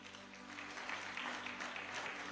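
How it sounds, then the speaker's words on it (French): A church congregation applauds, a steady wash of clapping from many hands that holds for the whole moment. "Si vous comprenez, applaudissez le Seigneur."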